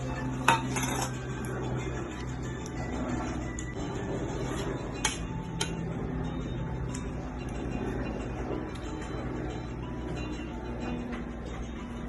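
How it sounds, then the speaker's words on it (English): Cutlery clinks and scrapes against a plate while an egg omelette is eaten in a kitchen, with scattered sharp taps over a steady low room hum and no talk. "First, we will eat the egg omelette."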